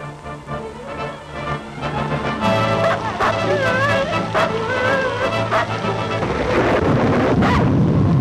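A thunderstorm heard through a 1938 film soundtrack set in the Yukon: a loud, continuous roar of rain and rumbling thunder, with orchestral music and voices over it.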